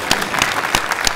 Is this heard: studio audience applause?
yes